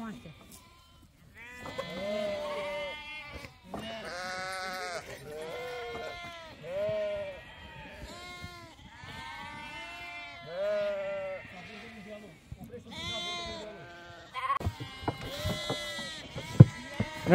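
Goats and young kids on a shepherd's farm bleat repeatedly in overlapping, wavering calls, close and fairly loud, with people talking at times among them.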